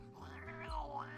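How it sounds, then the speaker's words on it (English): A cat meows in a short drawn-out cry, the lunar cat enemy in the horror video game World of Horror, loud and close over a low droning game soundtrack. "That's a cat."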